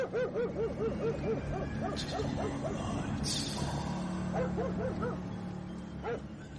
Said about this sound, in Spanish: A baja intensidad distinguía los ladridos del perro.